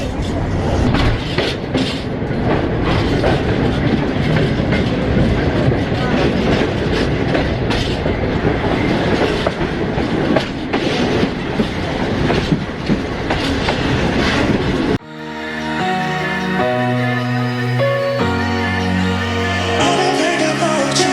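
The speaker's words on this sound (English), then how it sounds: "this is the oldest mountain train in Romania, built around the 1860s or so" The oldest mountain train in Romania, dating from around the 1860s, runs on rails with wooden benches inside, producing a loud steady clickety-clack and rumble for about fifteen seconds before music takes over.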